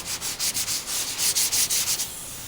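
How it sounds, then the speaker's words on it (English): Hand sanding block rubbing back and forth over body filler on a car panel, cross sanding to feather the edge, with about a dozen steady rasping strokes close up before the scraping stops. "I'm gonna make that feather, that gradual edge by cross sanding"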